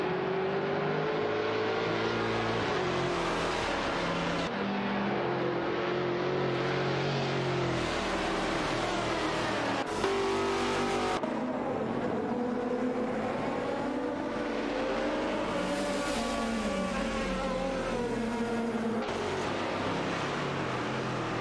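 Race cars in an AI racing video game drone and whine continuously, engine pitches rising and falling through gear changes as several cars run close together, loud and steady with no voices.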